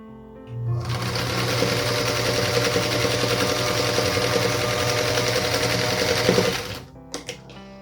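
A sewing machine stitches a Midnight Star quilt block, running steadily and loudly for about six seconds before stopping, followed by a few small clicks.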